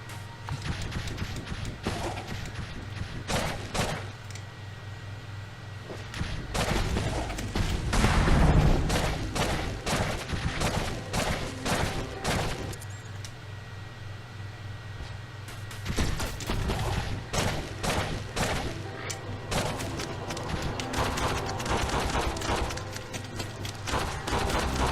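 Rapid cannon fire in the Owlboy video game, a dense run of sharp repeated shots layered over a steady droning game soundtrack, continuous and loud throughout.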